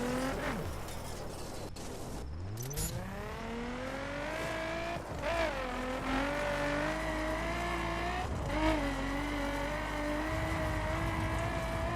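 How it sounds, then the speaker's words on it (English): Nissan Z racing on dirt in the video game The Crew, its engine revving and rising through gears with loud, steady roar, brief dips at shifts and a tire-skid whoosh early on. "This thing sounds pretty sick in the dirt."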